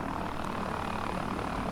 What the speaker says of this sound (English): There's another helicopter right here.